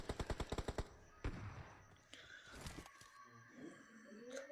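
Rapid burst of video game gunfire, about eight sharp automatic shots in quick succession, then a single louder shot and scattered game effects trailing off, fairly close and with no speech.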